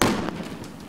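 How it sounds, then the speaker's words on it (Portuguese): A pyrotechnic device detonated by a police bomb squad bursts in one sharp blast right at the start, followed by a fading rumble and scattered debris noise. "houve a explosão"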